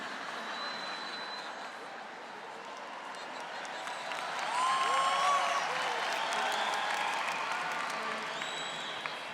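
An audience applauds at a Catholic youth gathering led by a priest; steady broadband clapping runs throughout, swelling midway, with a few whistles or raised voices on top.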